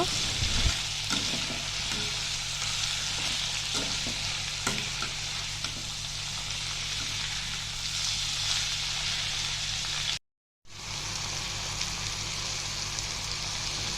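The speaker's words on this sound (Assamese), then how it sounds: "বিলাহীটো দি ভালদৰে অকণমান সময়ৰ কাৰণে এনেকৈ সকলোখিনি ভাজি ল'ব।" Onion, chilli and chopped tomato fry in a pan for paneer curry, a steady close sizzle with a few stirring clicks and scrapes early on, broken by a brief moment of silence before the frying resumes.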